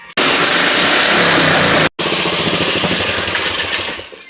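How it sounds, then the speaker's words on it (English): A small engine on a home-built mini quad, running loud and close with a rough, buzzing idle, briefly cutting out near two seconds and then picking back up. "I figured out why it actually runs better because I had the choke on."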